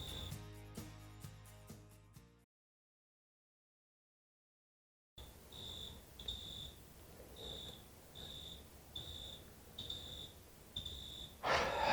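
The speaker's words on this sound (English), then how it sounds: "I really hope you can't hear those crickets." Crickets chirp in a regular rhythm of short, high-pitched pulses against a quiet background, following a brief burst of music and a gap of silence.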